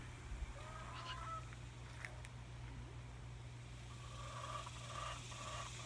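Chickens in a backyard flock with newly added hens give faint, scattered clucks and honk-like calls over a steady low background hum.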